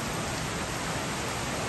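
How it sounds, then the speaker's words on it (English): Pouring rain falling steadily, a dense, even hiss of heavy rainfall that fills the whole moment without breaks, moderately loud and close. "since it's pouring rain"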